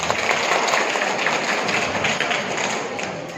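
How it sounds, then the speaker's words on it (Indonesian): An audience of kindergarten heads and teachers at a gathering in Bojonegoro breaks into applause, a steady dense clatter of many hands with faint thumps mixed in, continuing evenly throughout. "Tepuk tangan semuanya."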